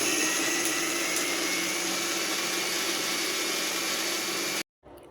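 A kitchen mixer grinder whirs steadily at close range as it grinds soaked dosa batter, a dense continuous motor roar that cuts off abruptly near the end.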